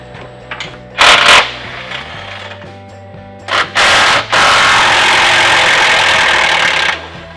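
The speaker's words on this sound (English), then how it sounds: "if you loosen the nut and hold it while using a cordless impact on the front, you can get this thing out a whole lot easier." A cordless impact wrench zips in short bursts while loosening a nut on the front-end heat exchanger of a supercharged Ford GT500, loud and close, with a steady engine-like hum beneath and no talk.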